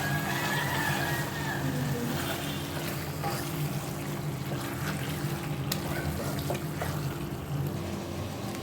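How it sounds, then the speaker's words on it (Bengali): Tap water runs and splashes steadily while spinach is washed in a home kitchen, a continuous close rushing under faint background noise. "এখানে আমি পালং শাকটাও ধুয়ে নিচ্ছি"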